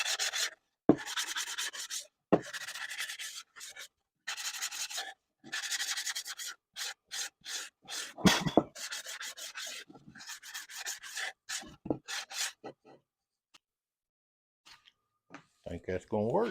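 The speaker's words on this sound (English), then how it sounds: "I'm going to do a little bit of touch-up sanding by hand" Wood clock face being touched up by hand with sandpaper, a close scratchy rubbing in short repeated strokes with brief pauses, dropping off near the end.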